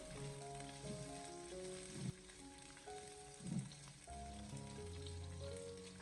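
Pork belly stir-fries in a wok over low heat, a faint soft sizzle with a few stirring scrapes, mostly covered by background music.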